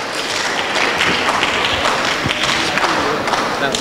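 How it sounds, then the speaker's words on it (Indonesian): An Indonesian audience at a fiqh lesson on prayer for the sick applauds a participant. Dense, steady clapping fills the short stretch at a fairly loud, even level. "Tepuk tangan untuk Mas Wahyu."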